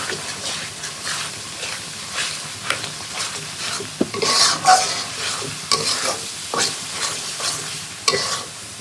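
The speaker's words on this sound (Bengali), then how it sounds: "ভালো করে মশলাটা কষাবো।" Ground spice paste with coriander powder and chilli being fried and stirred in a pan for a duck curry, loud repeated scraping strokes over a continuous sizzle, close up.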